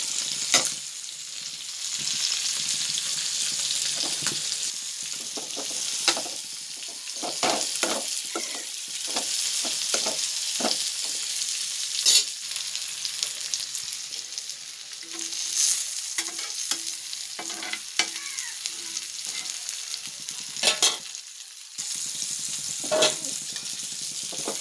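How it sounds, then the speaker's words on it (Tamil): Dried cod fish sautés with onion and green chilli in a pan, giving a steady sizzle broken by repeated scraping stirs and clinks of the spoon throughout. "இது கருவாடு வதக்கிட்டு இருக்கேன். வெங்காயம் பச்சை மிளகாய் போட்டு வதக்கிட்டு இருக்கேன்."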